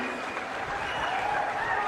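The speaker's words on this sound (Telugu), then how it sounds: "గట్టిగా చప్పట్లు కొట్టి అభినందించండి" An audience at a public meeting applauds with steady, dense clapping at a distance that holds evenly throughout.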